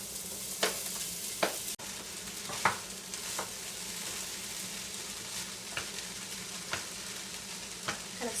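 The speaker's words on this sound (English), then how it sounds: "while my veggies are sauteing, I'm just breaking this up enough so that when I try to dump it in there" Vegetables and rice sizzle steadily in a hot pan, with a constant frying hiss broken by regular scraping stirs of a utensil, close and without talk.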